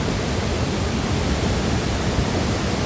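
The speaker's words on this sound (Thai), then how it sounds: "ธรรมชาติของน้ำตก" Tat Ton waterfall gives a dense, continuous roar of falling water that stays even and loud throughout, with no voices.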